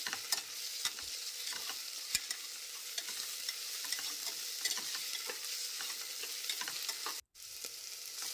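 Ginger garlic paste fries in oil with a steady bright sizzle, punctuated by repeated spoon scrapes and taps as it is stirred, with a brief drop to near silence late on.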